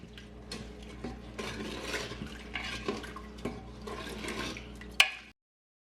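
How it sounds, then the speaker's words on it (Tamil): Rice, kidney beans and coconut milk are stirred together in a pot for Jamaican rice and peas. Wet scraping and sloshing carry on with light clinks of the spoon against the pot, ending in a sharp knock. "இப்போ இதற்கு நல்லா மிக்ஸ் பண்ணி விடுங்க."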